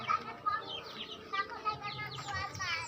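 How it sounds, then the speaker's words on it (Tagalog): A chicken clucks in short bursts at a riverbank, mixed with rustling and a voice talking nearby. "Halan, manok."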